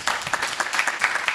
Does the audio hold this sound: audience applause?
yes